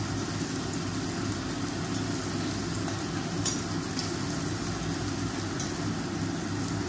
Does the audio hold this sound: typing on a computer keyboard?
no